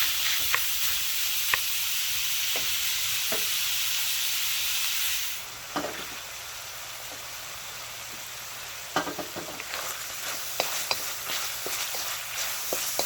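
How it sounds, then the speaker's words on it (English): Bacon fries in a pan with a steady, bright sizzle and hiss that drops noticeably halfway through, followed by softer crackling and a few clinks of stirring. "And we are going to cook the bacon until it's crispy."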